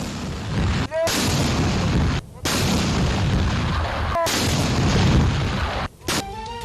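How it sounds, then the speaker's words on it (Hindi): Repeated deep booms of cannon fire ring out in steady succession, each blast sustained and loud, with brief gaps between rounds, from a 31-gun Independence Day salute in Pakistan. "दिन के आगाज पर वफाक में 31 और सूबाई दारुल हुकूमतों में 21-21 तोपों की सलामी।"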